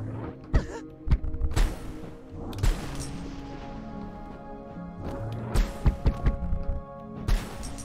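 Missile blasts going off in the video game Rusted Moss, a string of sharp thuds and crashing bursts at uneven intervals over a muffled game background, loud and close with no talking.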